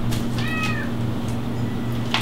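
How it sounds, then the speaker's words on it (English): A house cat meows a few times in a home kitchen, a clear nearby call over a steady low electrical hum, with no talking. "The cat has come to say hello."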